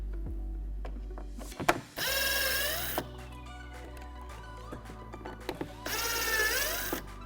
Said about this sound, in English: using a T20 Torx, we'll go ahead and unmount this thing.